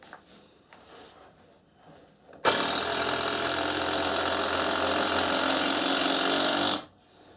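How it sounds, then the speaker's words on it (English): Power driver sinking a screw into subfloor edge blocking during a bathroom remodel, a single loud continuous whirring grind lasting about four seconds after a quiet start, then stopping abruptly. "I'll put these last two screws in."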